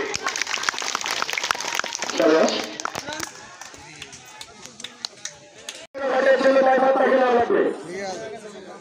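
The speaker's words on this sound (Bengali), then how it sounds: "অসাধারণ হাততালি, আপনাদের হাততালি খন্ডনপুর বাজারে শোনা যাচ্ছে না, এজন্য আরেকটি হাততালি।" Applause from a circus audience: a clapping crowd bursts in loudly, fades, then surges again near the end, with an announcer speaking over it through a loudspeaker.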